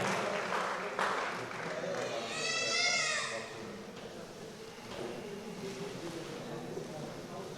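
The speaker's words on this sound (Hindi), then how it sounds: "तो जोरदार तालियों से इस्तकबाल कीजिए" An audience at a community felicitation event applauds loudly to welcome Maxine Simons, a dense wash of clapping that swells and then fades, with a voice talking over it.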